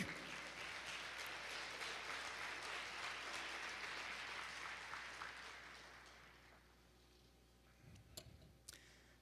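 A church congregation applauds the Lord, sustained clapping that fills the room for about six seconds before thinning out and fading, with a few scattered claps near the end.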